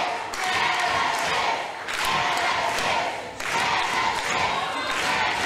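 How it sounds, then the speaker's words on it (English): A wrestling crowd of over 300 packs a tent, roaring and cheering loudly in sustained waves with brief dips between swells, and some scattered shouts rise out of the din. "the crowd just rabid"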